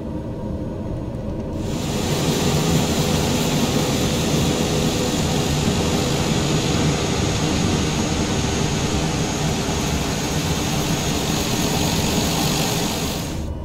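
Steady turboprop engine drone of a TBM 930 taxiing toward the runway in a flight simulator, rising in after a short quiet start and holding level and fairly loud until cutting off at the end.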